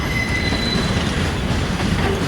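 A Union Pacific freight train rumbles past close by heading westbound into the Roseville Yard, California, wheels grinding and squealing on the rails in a loud, continuous roar.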